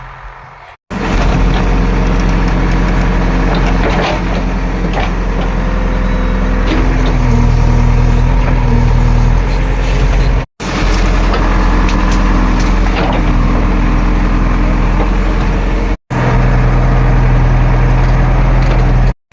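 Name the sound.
JCB excavator engine working in field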